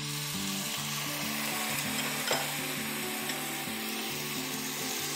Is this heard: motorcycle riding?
no